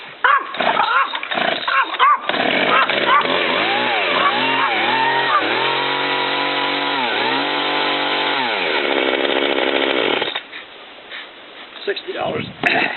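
A chainsaw revs up and down loudly in a rising and falling snarl, then settles into a steady drone before cutting out, with a dog barking and someone talking in the opening and closing seconds.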